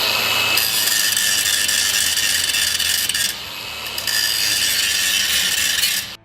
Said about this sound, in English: cut the tack welds that they made out there